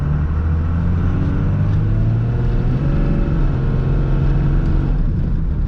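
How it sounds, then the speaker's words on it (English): A tow rig truck's engine drones loudly from the cab as it accelerates in first gear, the revs climbing steadily in a continuous rumbling roar. "Now we're putting some power to the ground."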